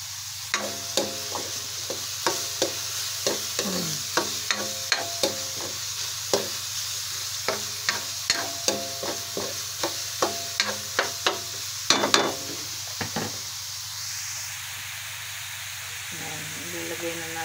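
Ground meat dropped into a pan of sautéed onion and garlic, sizzling steadily while a spatula scrapes and stirs in repeated clacks, close and fairly quiet.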